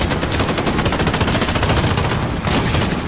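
Rapid automatic gunfire in the Call of Duty: Modern Warfare campaign, a dense, loud, continuous machine-gun burst of sharp cracks filling the scene with barely a pause.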